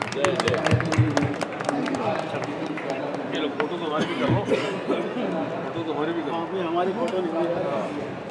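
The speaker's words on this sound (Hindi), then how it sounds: "तालियों की गड़गड़ाहट थोड़ा चालू कीजिए" Audience applause at a book launch for the Hindi book 'Vyatha Kahe Panchali', a dense, steady wash of clapping mixed with crowd chatter and voices that lasts throughout.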